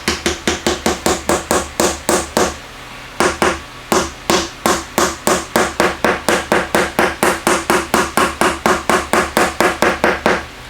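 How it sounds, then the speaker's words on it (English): Small ball peen hammer tapping a bearing into an LG ventless washer/dryer combo unit, a rapid series of sharp metallic taps in quick rhythm with one brief pause, close and loud. "I went ahead and grabbed my smaller ball peen here"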